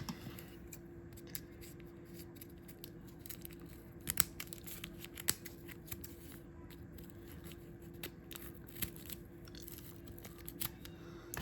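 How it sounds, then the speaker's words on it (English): Toy packaging for a Transformers Legacy Evolution Deluxe Animated Prowl figure being cut open with scissors, quiet snips and crinkling plastic scattered over a low steady background hum, with a few sharper clicks standing out. "let's just cut this open"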